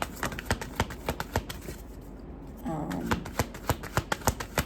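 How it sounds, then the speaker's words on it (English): Crisp, rapid riffling of tarot cards, repeated bursts of snapping clicks with a brief softer shuffle in the middle, close and fairly quiet. "I already shuffled, but I'll shuffle a little bit more."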